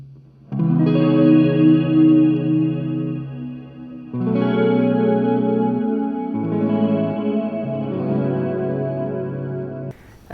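Electric guitar played through a JOYO R-14 reverb pedal in its Forest mode: three sustained strummed chords, each ringing out in a lush, shimmering wash of reverb, loud and alone.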